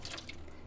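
Tap water runs steadily into a sink as pork ribs are rinsed, a soft continuous splashing with faint dripping, close and alone without talk.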